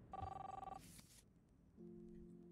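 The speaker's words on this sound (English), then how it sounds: "No, Max, answer the phone." A telephone in the video game Life Is Strange rings faintly, with one trilling burst of ringing followed after a short gap by a steadier second tone.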